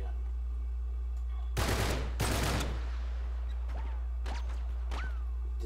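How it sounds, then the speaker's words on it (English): A burst rifle fires in the video game Uncharted 3: Drake's Deception, two loud, close, rapid bursts of gunfire followed by sharp whip-like ricochet zips over a steady low game hum. "Does that by default shoot 3 bullets at once? Yeah, it's a burst."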